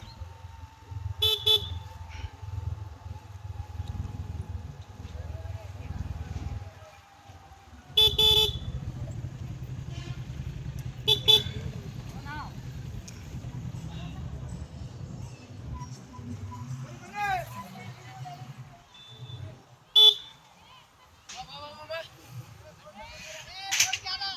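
A traffic jam at Talu Betta on the pilgrimage route to Male Mahadeshwara hill, with motorcycles and cars idling nearby and repeated sharp horn toots and honks scattered across the scene, while someone speaks over the noise.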